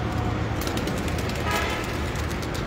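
Street traffic in Lahore fills the scene with a steady roadway roar, while repeated short car horn toots sound throughout, fairly close and loud.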